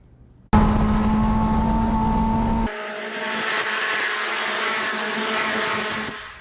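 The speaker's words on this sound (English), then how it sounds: "professional drivers compete in a series of races in Mazda Miata race cars" Mazda Miata MX-5 Cup race cars in a professional race let out a loud, sustained engine drone that starts abruptly. It then shifts to a rougher, wider roar as the cars continue at speed, with no voices.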